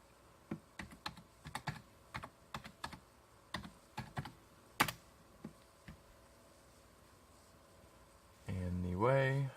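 Rapid keystrokes on a computer keyboard at a dual-monitor desk setup, a steady run of sharp clicks close by, ending in a short burst of louder rustling.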